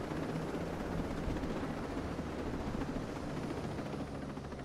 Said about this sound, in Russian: Так, сади вертушку.